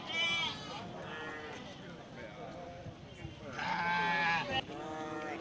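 Native village sheep at a livestock market bleat in loud, wavering bursts close by, while someone talks over the busy crowd noise.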